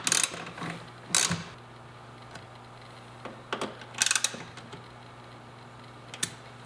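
Several short ratcheting clicks from a wrench snugging bolts on an Amp Research PowerStep running board motor on a Dodge Ram Mega Cab, sparse bursts over a low steady hum.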